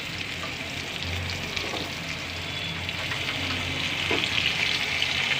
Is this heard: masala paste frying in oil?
yes